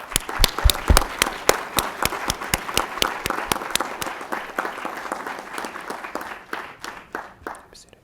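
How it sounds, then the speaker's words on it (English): Graduation audience applauding SBMI faculty at a 2015 ceremony: a dense burst of clapping that starts strong with loud individual claps, then thins and fades over about eight seconds. "Please give them a round of applause."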